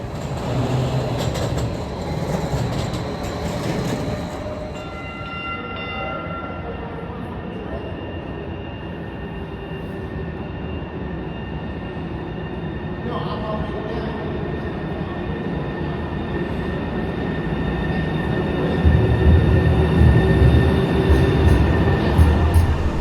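Steady rumble of a light rail car in motion heard from inside, with a low continuous roar, occasional squealing tones and a louder surge near the end.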